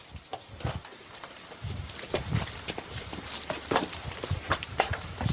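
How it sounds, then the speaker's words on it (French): Footsteps fall irregularly inside a house, faint and somewhat distant, as a series of soft thuds and creaks over a quiet, hissy background. "J'ai entendu des bruits de pas dans la maison."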